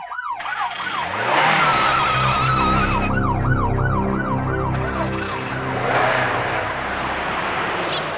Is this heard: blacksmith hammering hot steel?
no